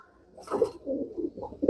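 Rampuri Indian pigeons coo close by in a short, soft series of low, throaty calls with a brief pause between phrases, no voices over them.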